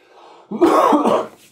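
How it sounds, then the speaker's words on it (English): A single close, rough cough or throat-clearing burst, loud and brief, following a quiet background. "So a bit of a cough there."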